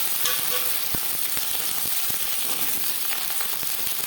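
Chunks of pumpkin and pumpkin stalks frying in refined oil for a Bengali vegetable dish, a steady dense sizzle with scattered crackles and pops, close and loud throughout, no voices.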